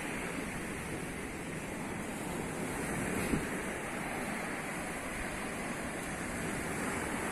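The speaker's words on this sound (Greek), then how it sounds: "Νερό τρεχούμενο." Steady rushing water fills the whole clip, a continuous broadband wash like a flowing stream near a sandy beach at Giannitsochori, Zacharo, Greece, with no voices.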